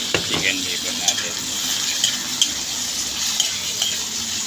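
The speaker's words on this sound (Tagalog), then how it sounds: "Lagay natin yung liver, chicken liver natin." Chicken liver frying in a pan for Filipino adobo with chicken hearts: a steady, bright sizzle throughout, punctuated by occasional utensil clinks and stirring scrapes, with no voices.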